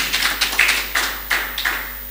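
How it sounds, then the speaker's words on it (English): Hand claps from a church congregation, now thinned to a handful of scattered, uneven claps fading out over a couple of seconds, moderately loud and alone. "Give him a hand clap for the Lord Jesus."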